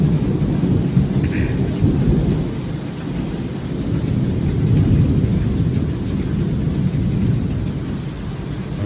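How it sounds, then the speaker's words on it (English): A heavy thunderstorm in Star Citizen, deep rolling thunder rumbling loudly and continuously with swells in intensity, layered over steady rain. "That's a good storm right there."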